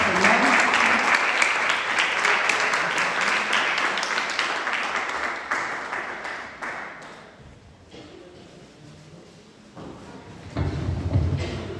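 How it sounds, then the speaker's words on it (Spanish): A congregation at a church service claps together in a loud, sustained round of applause that gradually thins and fades, then swells briefly again near the end. "Demos un aplauso al Señor."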